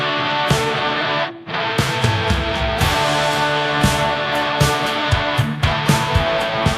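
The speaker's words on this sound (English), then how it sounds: "a 90s rock song with electric guitar and heavy drums" AI-generated 90s rock song with distorted electric guitar and heavy drums, loud and full with driving hits, a brief dropout near the start, no talking.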